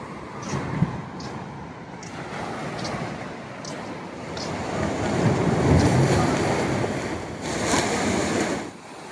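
Surf rolls in at Fregene surfing beach near Rome, a continuous broad wash of waves with rising and falling swells, roughened by wind buffeting the microphone.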